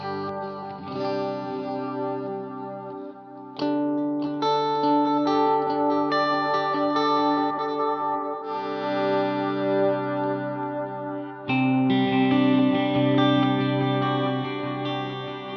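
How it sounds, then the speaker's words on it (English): Electric guitar chords ring out with a dotted eighth delay repeating each note, two delays combined, washed in plate reverb and chorus-like shimmer from a Strymon pedalboard, played alone with no talking. "with both delays on, so I have it to echo dotted, so it's got a little bit of reverb"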